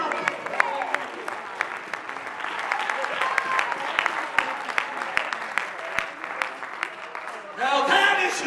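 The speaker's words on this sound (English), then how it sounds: "Clap your hands and give God." A church congregation applauds at a service in dense, sustained hand clapping that builds into a louder burst near the end, with a voice heard speaking over it.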